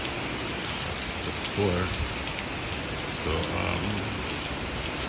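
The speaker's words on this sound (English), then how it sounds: "it's been raining consistently from about 12 o'clock." Rain falls steadily during Hurricane Beryl in Jamaica, a dense, even hiss that fills the whole clip, with a voice briefly speaking over it twice.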